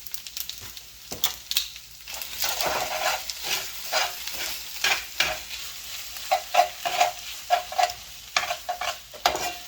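Spaghetti being stirred in a hot pan on a stove: sizzling frying under a string of scraping, clacking stirs that come close together and grow busier toward the end, with no talk.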